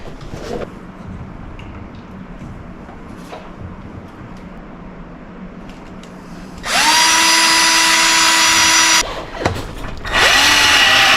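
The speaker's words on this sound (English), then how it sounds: "Time to drill." Power drill boring into square steel bar in a metal shop, quiet handling noises first, then a loud steady whine that stops briefly before starting again.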